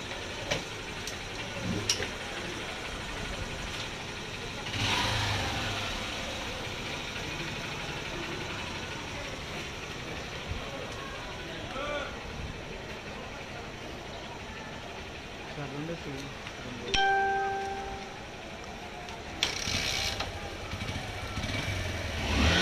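A high-mileage Bajaj Platina motorcycle, run beyond 50,000 km and treated with a carbon-cleaning injection, runs its engine with a steady putter and light ticking, while a person talks over it at times.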